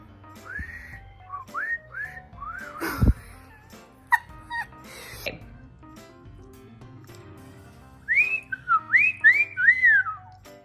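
Someone tries to whistle, giving short breathy chirping notes, then a few sharp knocks and a pause, followed by another run of quick rising whistled chirps up close.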